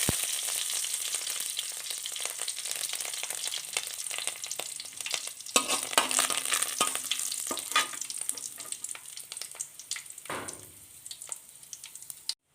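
Mustard and fenugreek seeds, cut dried red chillies and curry leaves frying in hot oil for an okra dish, a dense crackling sizzle that runs continuously and close, with brief louder spatters and stirring scrapes.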